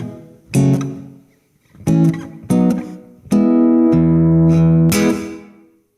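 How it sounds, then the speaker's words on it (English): An electric guitar plays a short phrase of plucked notes and chords through a shorter room-style reverb, each attack ringing briefly before fading, with a final sustained chord decaying over about a second. "we have a slightly shorter reverb on tap here."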